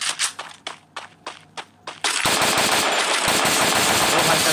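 Bursts of gunfire in a Free Fire Bermuda ranked match: a string of separate loud shots, then a sustained dense burst of rapid automatic fire at close range.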